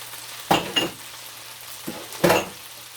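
Beef and broccoli being stir-fried with fresh garlic and chopped ginger in a pan, with a low sizzle broken by a few sharp utensil scrapes and clatters against the pan, close by and without talk.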